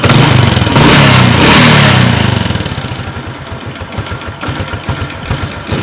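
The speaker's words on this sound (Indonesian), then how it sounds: "kalau motor normal tidak seperti ini, tidak jenut, tidak ndut-ndutan, bukan?" A Honda Supra X 125 motorcycle that misfires, burns too much fuel and starts hard. It is revved loudly at first, then drops to a rough, uneven idle with a pulsing, stuttering beat, close up and with no talk.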